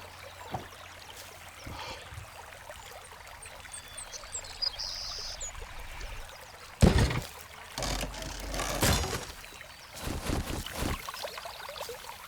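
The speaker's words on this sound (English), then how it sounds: "I wonder if there's water that comes out of the fountain." Water pours from a fountain in a video game as a soft trickle, then heavier gushing bursts and splashes later on. Faint chimes sound early, and there is no talk.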